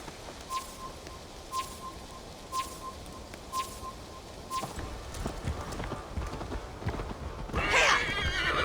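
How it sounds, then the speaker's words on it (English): Horse in the video game Assassin's Creed Valhalla, with a steady run of clip-clopping hooves, several evenly spaced footfalls, followed by a louder neigh near the end, fairly close with faint birdsong behind. "Your horse can smell the ale dripping from your mouth."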